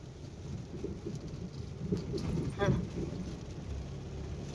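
Heavy rain pours steadily during a village merit-making festival, with a roll of thunder rumbling partway through and voices faintly audible beneath the downpour.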